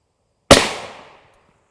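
A single rifle shot of an M80A1 round striking an NIJ Level III+ armor plate with a thick strike face: one sharp, loud crack that decays over roughly half a second, with nothing else around it.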